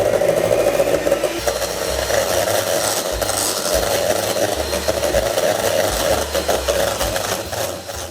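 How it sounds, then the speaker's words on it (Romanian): An electric mixer whips butter at high speed in a bowl, a steady close whirring with rough scraping texture that runs throughout without pause. "Iar acum spumăm untul pentru câteva minute bune."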